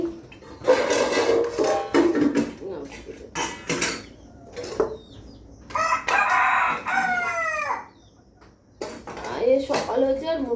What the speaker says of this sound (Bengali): সকাল হয়েছে আর মুরগি ডাকা শুরু করে দিয়েছে।